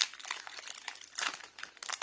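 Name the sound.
unwrapping the packaging of Pokémon pin collector boxes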